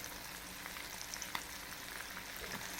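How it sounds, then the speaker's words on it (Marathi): Marinated fish pieces fry in a pan of hot oil, a steady dense sizzle with small pops and crackles, close and fairly quiet, with no voices. "सगळी जे मच्छी एकदम मस्त अशी फ्राय करून घ्यायची"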